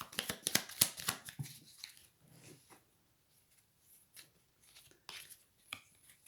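Tarot cards shuffled by hand during a card reading, a quick burst of riffling and shuffling taps early on, then faint scattered card slaps and handling noises in a quiet room.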